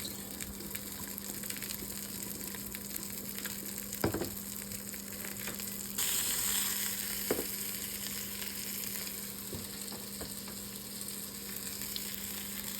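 Garlic sizzles in a frying pan while bream is cooked outdoors: a steady, moderately quiet frying hiss with a few soft clinks and a brief louder surge of sizzle midway.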